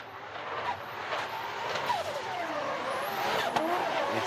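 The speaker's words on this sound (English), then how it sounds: "I think he has the car that sounds the best on the whole grid." A 2JZ-powered drift car revs hard at high rpm during a Top 32 round of the Scandinavian Drift Series at Rudskogen, a loud sustained engine wail with rising and falling pitch sweeps and tire noise throughout.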